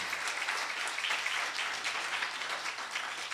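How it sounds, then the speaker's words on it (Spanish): A church congregation applauding during a Spanish-language sermon, sustained dense clapping filling the room at a moderate distance, with no talk over it. "Denle un fuerte aplauso al Rey."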